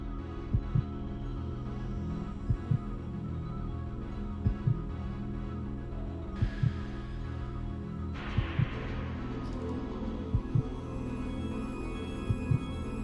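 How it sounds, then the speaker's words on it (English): A slow, steady heartbeat from the video game Resident Evil: Code Veronica X: paired low thumps repeat about every two seconds over a constant droning game ambience, with no talk. "Heartbeat."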